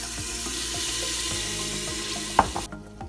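A glass of water poured into a cooking pot on a gas stove with spices and salt, a steady splashing pour over faint sizzling that ends in a clink and drips.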